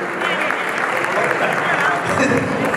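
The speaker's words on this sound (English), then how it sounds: "Let's give them a round of applause" Dense, steady applause from a gala audience honoring students, loud and continuous across the whole stretch with crowd murmur mixed in.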